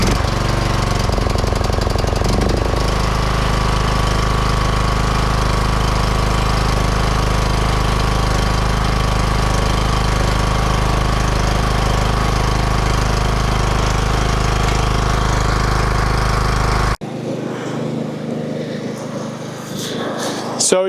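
Riding lawn mower engine running after a jump start, a loud steady rattling, knocking drone close by that holds for most of the stretch before cutting off, followed by quieter rustling and handling noise.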